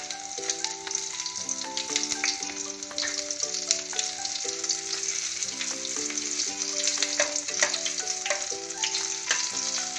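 A star fruit mixture with added chillies comes to a boil in a pan on a gas flame, giving a steady bubbling sizzle that sits beneath louder melodic background music throughout.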